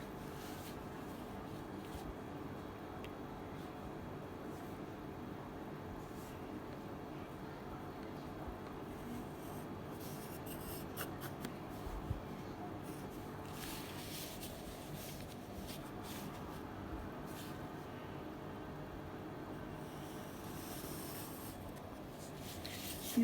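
A pen drawing a cross on folded paper for an origami flexagon toy, faint continuous scratchy strokes with light paper shuffling, quiet and close, with no talking.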